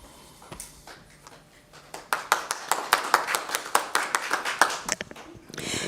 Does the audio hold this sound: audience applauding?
yes